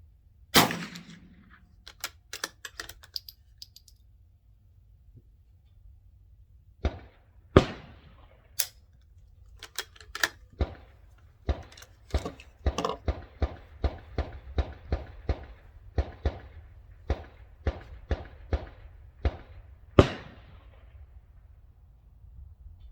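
Rimfire shots from a Ruger Precision Rimfire Rifle on a 75-yard range, about twenty sharp cracks spaced a second or so apart, loud and close with short gaps between them and no talking.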